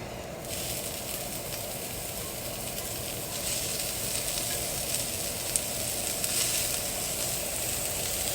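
Beef suya kebabs sizzle steadily on a heated, lightly greased grill pan, a continuous close crackling hiss that brightens after a few seconds, with occasional faint clicks and no voices.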